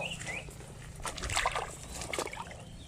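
Someone wades through water in a flooded rice field, feet sloshing and splashing in a few uneven strides close by, with a faint hum of rain or wind behind.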